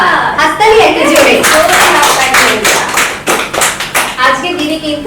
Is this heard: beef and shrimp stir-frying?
no